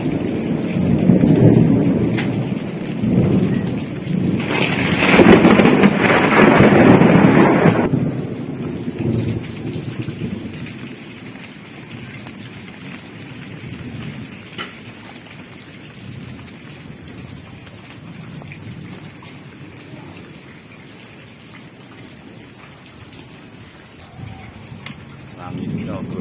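Heavy rain pours down on a grape garden during a storm, a loud dense wash that swells for several seconds before easing into a steadier, softer patter with low rumbles. A voice talks over it at times.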